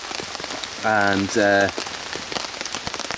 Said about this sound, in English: the rain's finally started now that I'm fully settled